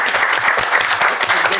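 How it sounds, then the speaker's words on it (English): An audience of trade mark judges and attendees gives a round of applause at a formal professional event, steady clapping for under two seconds with some voices mixed in. "I think we should clap."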